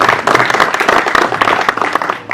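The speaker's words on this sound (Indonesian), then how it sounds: "Kasih tepuk tangan lagi dong." A press conference crowd claps for an amateur boxing tournament announcement, a loud, close burst of hands that stays dense and even for a couple of seconds before tapering slightly.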